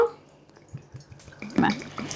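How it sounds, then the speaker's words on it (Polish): Water poured from a vessel over fern leaves for herbal tea, a short burst of splashing and trickling that swells midway through the clip, heard close up and fairly quiet. "Zalewamy sobie wszystko wodą."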